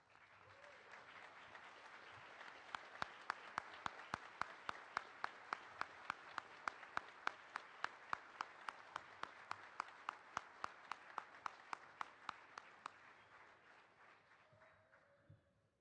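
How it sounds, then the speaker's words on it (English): An audience at the 2011 USSSA Hall of Fame induction ceremony gives its Hall of Famers long, even applause, heard faintly and at a distance, with sharp individual claps standing out before it tapers off. "provide a round of applause for all you have done for this great game"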